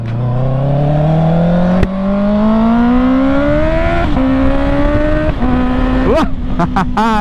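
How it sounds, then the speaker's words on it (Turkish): A Honda CB650R motorcycle revs up steadily through the gears, its engine note climbing loud and close, with sharp exhaust pops and crackles near the end as the throttle shuts. "Egzozda patlıyor, quick shifter de var."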